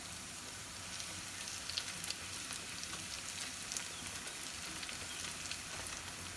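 Onions browning in a pan for kadhi pakora give off a steady, close sizzle with faint crackles and pops throughout, no voices over it.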